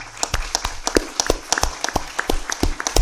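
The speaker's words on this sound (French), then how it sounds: "Je vous demande de l'applaudir spécialement." Scattered applause from an audience at a cancer-awareness conference in France, distinct individual claps ringing out in an uneven rhythm, close and clear rather than a dense roar.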